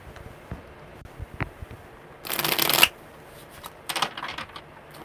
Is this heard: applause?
no